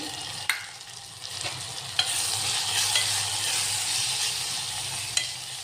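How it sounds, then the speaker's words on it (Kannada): Ground spices (turmeric, garam masala and chili powder) fry in hot oil with salt, giving a steady close sizzle, with a few sharp clinks and scrapes of stirring and no talking. "ಇದು ಎಲ್ಲ ಎಣ್ಣೆಲಿ ಫ್ರೈ ಆಗಲಿ"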